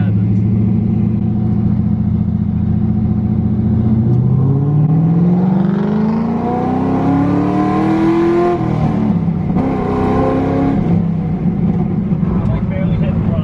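A car engine revs loudly and close under light throttle, holding a steady drone before climbing in pitch, dropping back and rising again, with people talking over it.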